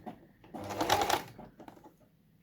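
An old, basic, noisy sewing machine runs in a single short burst while stitching a quilt block, a close mechanical whir rising and fading within a couple of seconds.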